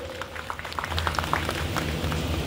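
An audience at a training certificate ceremony applauds, a steady patter of many hands clapping at moderate distance over a low background hum.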